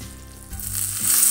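Curry leaves hit hot oil with a sudden burst of sizzling that swells into a loud, steady crackle and hiss over about a second, with no voices.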